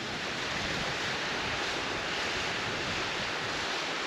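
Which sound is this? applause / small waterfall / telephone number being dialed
small waterfall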